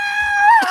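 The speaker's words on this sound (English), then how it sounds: "you're also encouraged to share the audio of you screaming" A shared recording of a person screaming: one short, loud, high sustained cry that rises slightly in pitch toward the end, heard alone.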